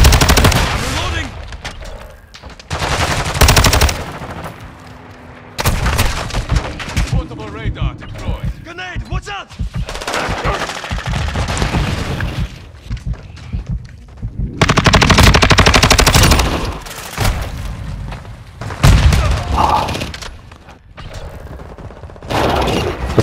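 Bursts of automatic gunfire from Call of Duty: Modern Warfare II come in loud repeated volleys separated by short lulls, with weapon handling sounds between them.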